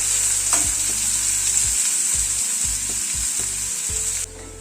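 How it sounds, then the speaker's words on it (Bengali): Steady, bright sizzle of chopped onion frying lightly in a pan over a lowered gas flame, with soft scraping stirs every half second or so; no voices. "গ্যাসের ফ্লেমটাকে কমিয়ে পেঁয়াজটাকে হালকা করে ভেজে নেব"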